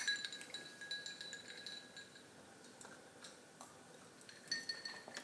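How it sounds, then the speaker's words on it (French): Ice cubes clink faintly against glasses at a casual Caribbean-style meal, with light, scattered tinkles over a low background hush. "C'est sympa ce petit bruit de glaçon dans les verres."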